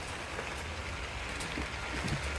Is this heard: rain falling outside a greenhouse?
yes